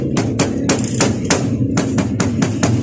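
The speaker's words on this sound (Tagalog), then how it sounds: "rubber hammer lang yung gamitin nyo pang pukpok para umangat." A rubber hammer taps repeatedly on a motorcycle engine part during a top overhaul of a Honda Wave125, giving about a dozen sharp, close knocks at an uneven quick rhythm with no talking.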